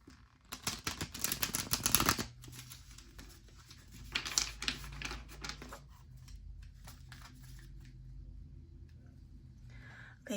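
Tarot cards are shuffled by hand in quick riffling bursts, a crisp papery patter that comes close and fairly soft, then a quieter stretch of card handling with faint background hum.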